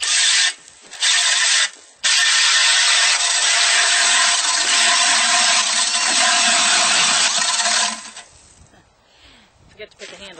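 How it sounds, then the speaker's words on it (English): A small ice auger drills a hole through ice at a beaver house, giving a loud, continuous grinding whir with two brief stops early on. It cuts off after about eight seconds, leaving quieter scraping and handling. "I've got my little auger set up here and I'm going to poke a hole in there"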